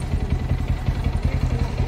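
Scooter or motorbike ride at night in a town, a steady low engine drone with rattling clatter running continuously and fairly close throughout.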